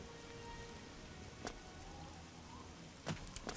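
Rain in Oblivion falls steadily as a dense, hissing patter on surfaces, with a few brief sharper splashes or taps rising above the continuous wash.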